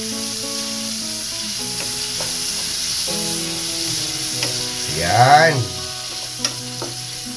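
Garlic sautés in a pan for pakbet with a steady, loud sizzle and occasional stirring scrapes, while a voice briefly speaks over the frying.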